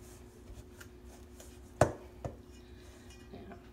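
A pastry blender cuts lard into buttermilk biscuit dough in a bowl, soft rubbing scrapes with one sharp knock of metal against the bowl and a lighter tap after it, no talking.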